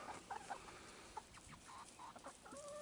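Backyard chickens, including Leghorn hens, cluck in short, scattered bursts at a moderate distance, with a few rising calls and pauses between them and no talking.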